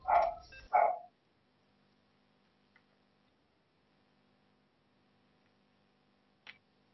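An 8-month-old foster dog gives two quick barks right at the start, close and fairly loud, and then everything goes almost silent apart from a faint tick near the end.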